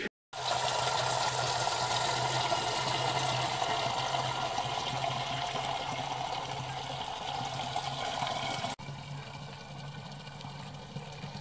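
Water runs steadily from a village spring spout in a Himalayan hill village, its flow low that day; a continuous close rushing and splashing holds level throughout, dropping slightly softer near the end.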